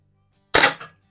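A Diana Chaser air gun fires once in a garage, a single sharp crack with a brief metallic ring from the big paddle target, close and loud.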